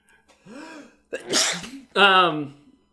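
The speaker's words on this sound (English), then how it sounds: "I'm about to sneeze." A single close sneeze, with a sharp inhaled build-up and explosive release, then a brief voiced sound right after.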